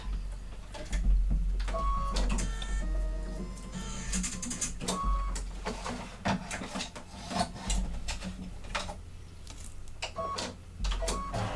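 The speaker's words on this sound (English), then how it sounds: "let me change cameras so you guys can kind of watch it embroider" A Brother Luminaire embroidery machine stitches a design, a close rhythmic mechanical clatter of needle strokes with short whirring runs and occasional beeps, heard without talking.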